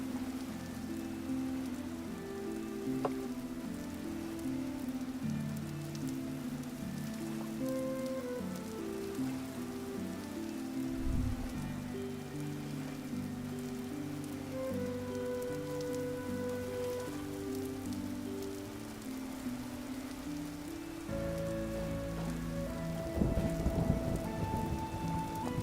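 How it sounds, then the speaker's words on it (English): Soft continuous rain patter from the weather in the survival game Vintage Story, quiet and steady beneath a low droning musical background, with no talking. "Let's turn down the weather sounds."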